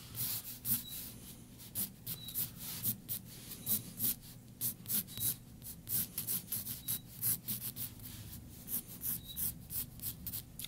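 A graphite pencil sketches a face on paper, giving a steady, close scratching and rubbing with short repeated strokes throughout, quiet and without talk.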